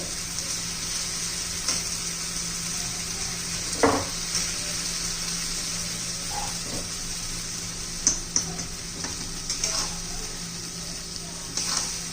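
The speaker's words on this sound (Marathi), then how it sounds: "आता त्याच्यामध्ये वांगी घालून घ्यायची." Brinjal pieces going into hot oil with masala and frying, heard as a soft, continuous sizzle with scattered scraping and stirring knocks.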